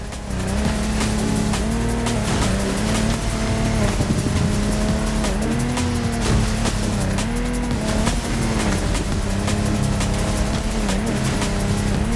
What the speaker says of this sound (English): Contestants need to push their engines